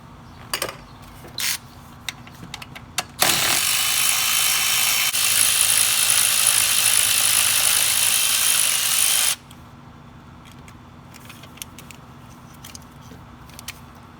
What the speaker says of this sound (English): let's go ahead and remove the throttle body using an 8mm socket